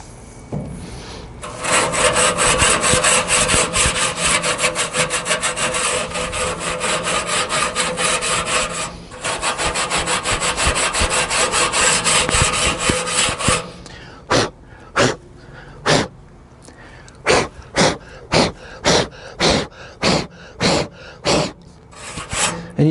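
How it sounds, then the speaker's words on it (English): Abrasive scrubbing of a salvaged grill with baking soda: a long stretch of steady, loud, rasping back-and-forth rubbing with one brief pause, ending in a series of separate sharp scrub strokes. "I might put a little bit of baking soda and some scrub right here"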